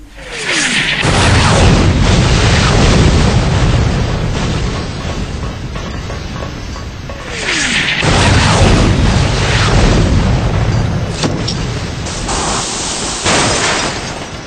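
Airstrike explosions in a video game: two loud, long booming blasts roughly six seconds apart, each with a rumbling tail and crackling debris, plus a sharp burst near the end.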